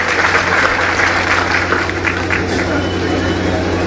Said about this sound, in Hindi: इंडिया के मंडल के जोरदार ताली बजा के इनका स्वागत करिए।